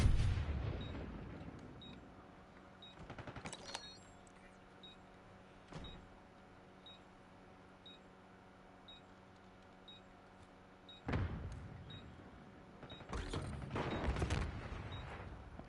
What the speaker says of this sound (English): I hear lots of shots.